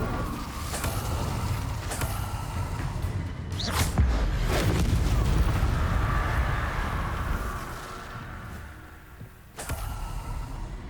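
A fire spell is cast in the video game Hogwarts Legacy, bursting out with a sharp whoosh and then a sustained roaring rush. Scattered thuds and swishes follow before the sound thins out and flares briefly again near the end.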